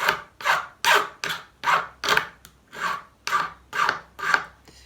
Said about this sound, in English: you rotate your pin as you file